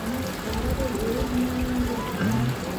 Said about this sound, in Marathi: असं धबधबा केलेला, वरून पाणी येता, खाली टपात जमा होता